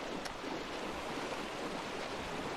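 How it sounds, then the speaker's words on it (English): Continuous rushing roar of a waterfall in the Ark Survival game world, a loud, even wash of falling water with no voices over it. "I love this waterfall."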